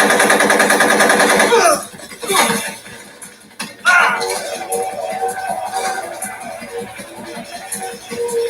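Rapid bursts of automatic gunfire from the video game Metal Gear Solid 3 crackle loudly, mixed with voices and game sounds, then continue in quieter, steady clatter.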